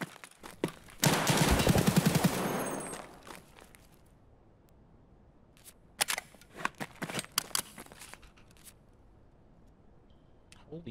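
Shotgun fire in the video game Escape From Tarkov: a long, loud burst of blasts up front, then a cluster of sharper, separate shots and clicks a few seconds later, with quieter stretches between.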